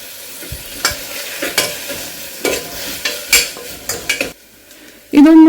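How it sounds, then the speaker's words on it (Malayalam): Onion sautés in a pan with ginger garlic paste, slit green chili and curry leaves, sizzling beneath repeated spatula strokes that scrape and clink against the metal. The clip ends with a sudden louder burst of frying. "ഉള്ളി ചെറുതായിട്ടൊന്ന് വഴണ്ട് വരുമ്പോൾ അതിലേക്ക് ജിഞ്ചർ ഗാർലിക് പേസ്റ്റ് ഇട്ട് കൊടുക്കാം"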